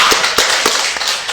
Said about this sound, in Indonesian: Mari kita tepuk tangan buat quotes Bunda.